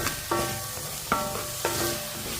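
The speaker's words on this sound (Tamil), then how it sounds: "இப்போ தக்காளியை கட் பண்ணி போட்டாச்சு. இதையும் நல்லா வதக்கிக்கிடுவோம்." Cut tomatoes sauté in a pan under a steady sizzle, with three ringing metallic scrapes or taps of a utensil against the pan at even intervals; no voices.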